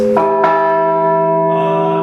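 A carillon church bell cast in bronze and silver, hanging in a cathedral tower in Canela, is struck twice in quick succession, loud and close, leaving a long, bright, ringing tone.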